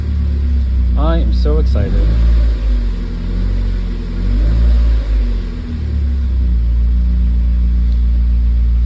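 An idling Mazda Miata engine rumbles steadily up close and swells slightly under light throttle, while a person speaks briefly over the low, continuous drone.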